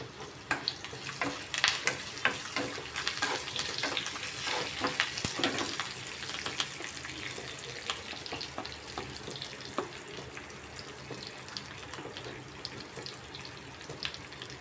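Green chillies, ginger and curry leaves fry in a pan for rava pulihara, giving a steady close sizzle with scattered crackles and pops, louder at first then settling into an even hiss.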